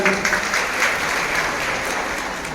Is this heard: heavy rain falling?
no